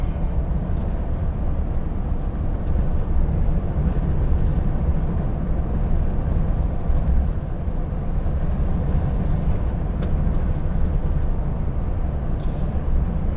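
Steady, loud low-frequency road rumble and engine drone inside a MAN HGV truck cruising on the M1 motorway, continuous for the whole stretch with no talk.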